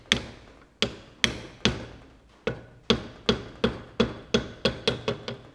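Hammer taps bump a pin into the front wheel hub of a Massey Ferguson 65 tractor while its bearing is being fitted: about a dozen sharp metallic knocks, spaced at first and then quickening into a steady run, close and clear with no talk.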